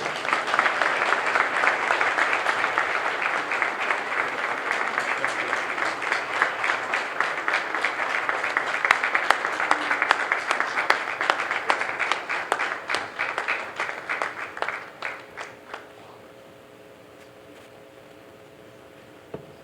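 An audience at a law fair prize ceremony claps for a guest being introduced, steady dense applause that thins into scattered claps and fades out near the end, leaving quiet room tone.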